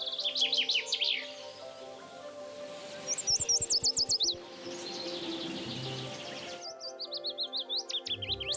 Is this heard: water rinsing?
no